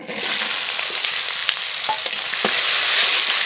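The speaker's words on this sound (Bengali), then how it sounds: "পেঁয়াজ ভাজা হতে থাকুক" Chopped onions fry in hot mustard oil with whole cumin, dried red chili and bay leaf, giving a steady, close, continuous sizzle with faint crackles throughout and no talking.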